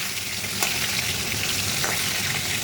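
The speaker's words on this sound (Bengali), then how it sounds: "মাছ ভাজছি তো" Fish fries in a pan with a dense, constant, close-up sizzle and crackle, and a few brief sharper pops.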